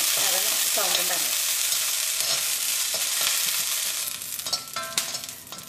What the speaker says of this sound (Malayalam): ഇതിലേക്ക് നമുക്ക് ഉണക്കമുളക് ഇടാം